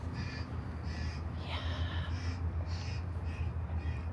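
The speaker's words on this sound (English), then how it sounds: "Can you hear those birds squawking?" Harsh crow-like cawing from a bird-scaring recording repeats in bursts over a steady low hum in Budapest, fairly loud and regular, with a brief word spoken partway through.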